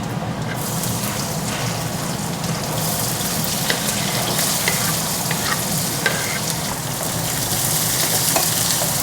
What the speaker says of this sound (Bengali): এবার জিরে তেজপাতা দিয়ে দিচ্ছি, রসুন দিয়ে দিচ্ছি।